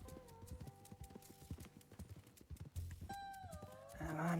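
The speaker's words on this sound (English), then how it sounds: "My Foxtrot here was more expensive than that horse." Horse hooves clip-clop steadily in the RedM (Red Dead) game while riding a Foxtrotter horse, a regular rhythmic beat under background music, fairly faint, with a louder swell near the end.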